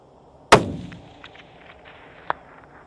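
A single sharp Remington rifle shot cracks loudly outdoors and decays quickly, followed a couple of seconds later by a fainter distant impact or echo at long range.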